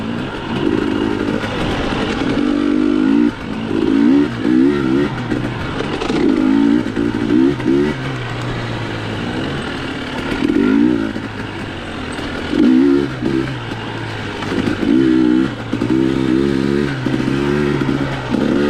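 A dual sport motorcycle threads through a tight wooded section, its engine revving and easing off in quick repeated bursts, loud and close, with clattering over rough ground.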